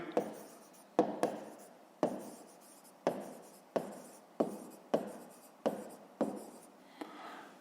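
A pen writes out a math solution on paper, giving about a dozen crisp strokes, each a sharp tap fading into a brief scratch, close and quiet.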